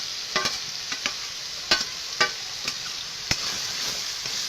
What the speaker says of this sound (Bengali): আমি এটা ভালো করে একটু কষিয়ে নেব।